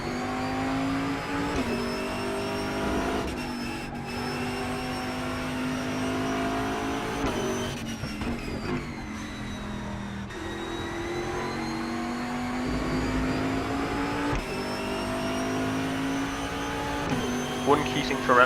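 Race car on Road America in the RaceRoom racing game, engine revving and rising in pitch through gear changes as it accelerates out of a corner, loud and continuous with brief dips when lifting.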